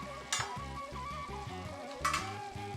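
Ethiopian stew simmering in a covered pot over low-medium heat, a soft continuous sizzle and bubbling with a couple of brief sharper pops, alone with no voices.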